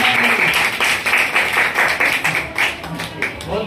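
A class of children claps for a top student, a loud steady round of many hands with distinct slaps pulsing through the few seconds.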